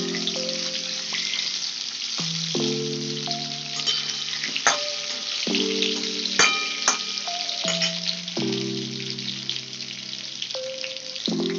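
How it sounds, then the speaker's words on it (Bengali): Pointed gourd (potol) slices fry in hot oil with a steady, moderate sizzle throughout, partly masked by melodic background music with sustained tonal notes. "এইবার এতে সব পটলগুলোকে দিয়ে ভেজে ফেলবো"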